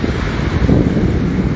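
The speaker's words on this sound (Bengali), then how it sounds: "এক সময় ঢেউ আসতেছে বড় বড়" Big sea waves surge onto Cox's Bazar beach in a continuous loud roar of surf, heavily buffeted by wind on the microphone, with no voices.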